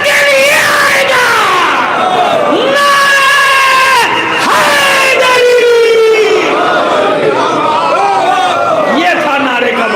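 At a religious gathering in Narowal, Punjab, a large crowd shouts slogans in loud call-and-response bursts, with long rising yelled phrases overlapping one another, packed and close throughout.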